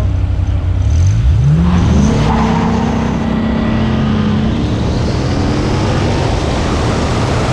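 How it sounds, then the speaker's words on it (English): A 2000 Dodge Viper GTS launches hard from a dig, its engine note climbing steeply through quick gear pulls, loud and close, then settling into a sustained high roar as it pulls away. "The final race is against my 2000 Dodge Viper GTS"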